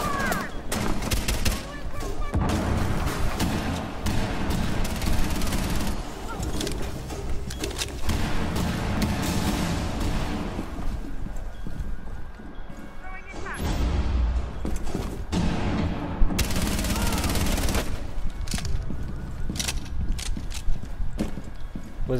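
Dense video game gunfire rattles throughout, with rapid automatic bursts and sharp single shots layered over mechanical clatter, loud and nearly continuous with brief lulls.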